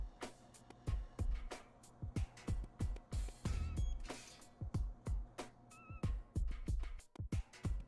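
A cat meows repeatedly in the Deponia adventure game, with short, clear calls scattered among a busy run of game effects and rhythmic clicks, fairly close and moderately loud.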